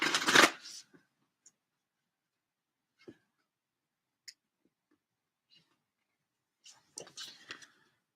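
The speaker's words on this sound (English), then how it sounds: "I want to pick some cards from the Sacred Rebel Oracle." Sacred Rebel Oracle cards are shuffled in a quick riffling burst at the start, followed by scattered faint taps and card flicks in near silence and a second brief rustle of cards toward the end.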